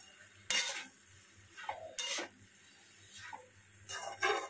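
Uttapam batter with salt and sugar is stirred in a bowl, giving a few separate scraping, clinking strokes with quiet pauses between them, close and fairly soft.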